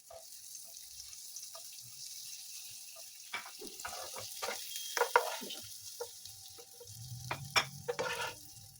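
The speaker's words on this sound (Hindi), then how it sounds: "अब मैं इसमें जो हमने अनियन रिंग्स कट किए थे, उनको शामिल करके हल्का-सा फ्राई करूँगी" Onion rings shallow-fry in butter and cooking oil in a pan, a steady soft sizzle under stirring and scraping clatter, with a brief burst of louder frying near the end.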